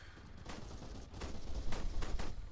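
A rapid series of sharp gunshot bursts from the video game Arma 3 crackles over a low rumbling background, several shots clustering toward the end and growing louder.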